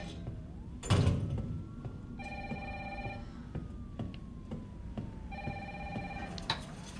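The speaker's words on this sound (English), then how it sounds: "Where's my phone?" A telephone rings inside a home in the Resident Evil 3 video game. It gives two bursts of a steady electronic ring, close and clear, and a louder thump comes just before them. No one speaks.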